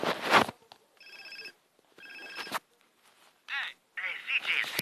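A telephone rings in a video game, with two electronic ring bursts in quick succession followed by game voices and effects, heard fairly clearly.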